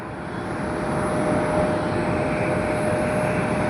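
A Japan Airlines Boeing 787-9 Dreamliner arriving from Bangkok at Tokyo Haneda gives off a continuous engine rush that swells slightly and holds steady over its short span, heard from a moderate distance with no talk.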